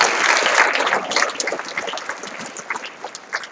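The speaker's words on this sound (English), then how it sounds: "How about a round of applause for her?" An audience at a high school athletic awards night applauds an athlete, a loud, dense burst of clapping that swells at first and then slowly thins out toward the end.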